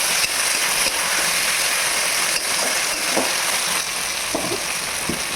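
Onions browned in a pan fry with a loud, steady sizzle, and tomato goes in and is stirred, spoon scrapes and clinks cutting through the constant crackle.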